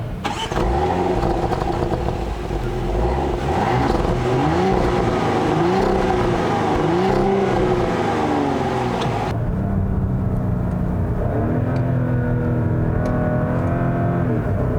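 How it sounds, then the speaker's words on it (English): A 2020 Porsche Cayenne base engine with standard exhaust revs up repeatedly with rising, droning pitch sweeps, then settles into a smoother, steady acceleration; loud, close and without voices. "is just a rather uninspiring engine noise"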